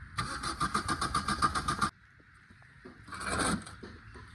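Maruti Swift Dzire with a starting fault cranks in a fast, even rhythmic burst for under two seconds, falls quiet, then briefly catches with a short rising surge before settling low, heard fairly close and without talk.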